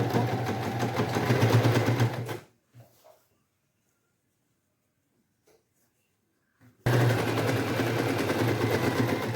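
A sewing machine stitching the hem of a baby's trouser runs fast and steady, then stops for several seconds of near silence before starting up again at the same pace.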